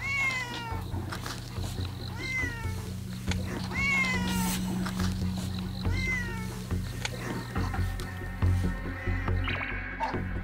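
A frightened stray cat meows repeatedly in loud, rising, drawn-out cries, several in a row, over a steady low hum and background noise.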